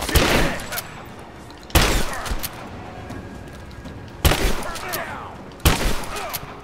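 Gunfire in Rise of the Tomb Raider: four loud, sharp shots or bursts land at irregular intervals, each trailing off into a reverberant tail over low game ambience.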